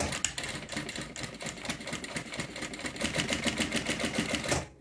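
A sewing machine stitches a toiletry bag in a fast, steady run of needle strokes, close and continuous for the whole stretch without pause.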